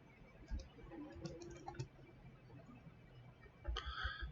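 Sparse keyboard clicks from typing data into an Excel spreadsheet, a few quiet keystrokes in short clusters with a brief burst near the end, faint and close, no talking.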